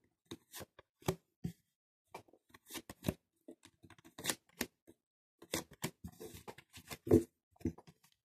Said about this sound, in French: Je vais repositionner une nouvelle carte sur chacune d'elles.